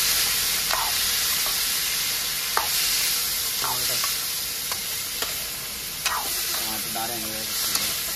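Chickpeas with salt stir-fried in a pan for chana masala, a steady close sizzle broken by repeated scraping strokes of a spoon against the metal, with brief clinks spread through the stretch.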